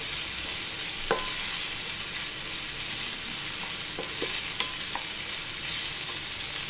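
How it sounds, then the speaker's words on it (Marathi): Green chillies and garlic sauté in a pan for beetroot rice, giving off a soft, continuous sizzle with occasional light clicks and scrapes from a spatula. "आता आपण हिरव्या मिरच्या टाकूया याच्यात आणि लसूण टाकूया। आता आपण हे छान परतून घेऊया।"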